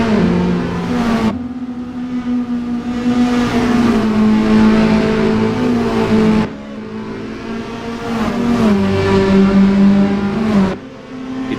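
Race car engines roar in the Assetto Corsa sim with Toyota S-FR cars, a loud sustained engine drone that climbs and drops in pitch through repeated gear shifts, with brief lifts around six and eleven seconds.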